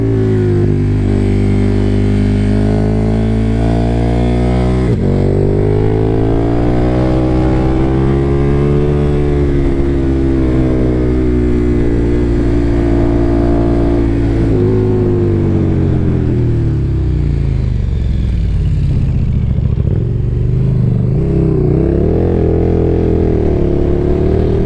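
A KTM 1290 Super Duke motorcycle ridden hard on open roads, its big engine loud and close, revving up and down through gear changes with a continuous rising and falling roar.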